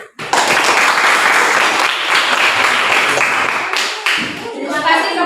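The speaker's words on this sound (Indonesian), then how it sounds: "baik, tepuk tangan" A group in a classroom or church lesson claps together after a presentation, loud continuous applause starting abruptly and lasting several seconds before tapering, with a voice at the end.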